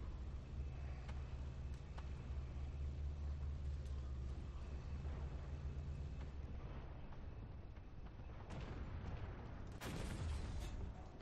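Tank cannon fire in the armored combat game Armored Warfare, with a steady low engine rumble throughout and a sharp blast near the end, fairly quiet overall and with no talking.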